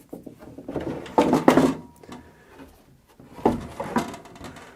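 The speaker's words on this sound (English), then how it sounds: "We've got legs that just fold out and lock." Legs of a portable workbench fold out and lock into place, giving a few hollow wooden clunks and knocks at close range, strongest near the middle and again toward the end, with no talking.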